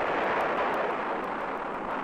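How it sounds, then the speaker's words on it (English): Mercury-Atlas rocket exploding on a test launch, a continuous loud broadband roar with rumbling, wind-like turbulence that stays steady and dense for the whole two seconds, with no voices. "Moments later, the project was cast into despair when the rocket exploded."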